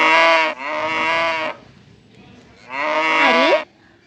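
Two long, loud moos from a cow in a cowshed, close by and separated by a short quiet pause, the second call wavering at its end.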